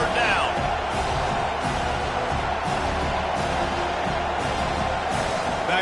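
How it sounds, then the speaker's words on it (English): A packed stadium crowd builds into a sustained roar on third down at a football game, a dense and steady swell beneath a play-by-play announcer's voice. "Decibels rising as the crowd gets behind this defense on 3rd down."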